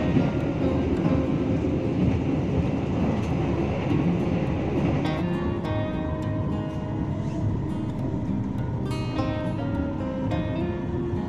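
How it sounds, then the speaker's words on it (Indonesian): KA Singasari passenger train leaving Wates station in Yogyakarta at night, heard as a steady low rumble with rhythmic wheel clatter and squealing tones building over about eleven seconds, with no talk. "KA Singasari diberangkatkan kembali dari stasiun Wates Yogyakarta jam 22 lebih 37 menit"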